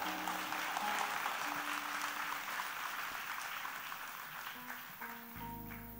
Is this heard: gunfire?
no